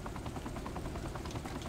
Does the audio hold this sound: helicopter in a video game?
yes